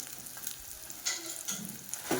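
Chopped ginger and garlic fry in a pan with red chili sauce and tomato ketchup, giving a steady close sizzle broken by a few scraping stirs.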